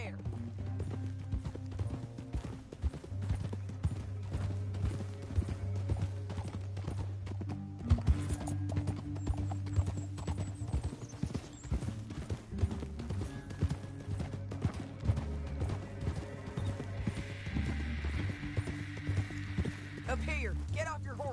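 Horse hooves in Red Dead Redemption 2, a steady rhythmic clip-clop of riding running throughout under game music and character dialogue, with a brief whinny.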